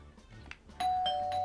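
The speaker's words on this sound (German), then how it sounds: "Geklingelt. Hast du geklingelt?" A doorbell chimes in the video game Woodle Tree Adventures, a clear electronic tone that starts suddenly and holds steadily after a few quiet, scattered sounds.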